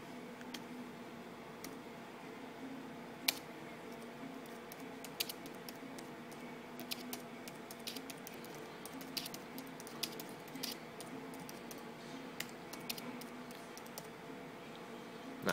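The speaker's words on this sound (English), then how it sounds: "Let's see if I can type one-handed." One-handed typing on a Zagfolio tablet keyboard case gives soft, irregular key clicks, close and fairly quiet, scattered across a low steady room hum with a few sharper taps.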